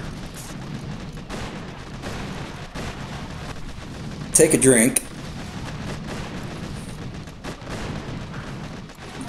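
Cannons blasting in the Boom Beach mobile strategy game during a Mega Crab stage, a steady rumble of battle fire with one loud burst near the middle, while a person talks over it.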